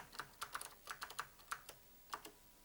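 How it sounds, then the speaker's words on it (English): A vintage computer keyboard typing commands into an early graphical adventure game, with crisp, close keystrokes clacking in quick irregular bursts and short pauses between them. "And man, that keyboard is awesome."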